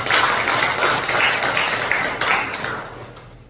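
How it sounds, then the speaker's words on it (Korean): A church congregation claps together for students during a Sunday worship service, a steady dense wash of applause that fills the room and fades out toward the end. "우리 학생들 위해서 박수 한번 주세요."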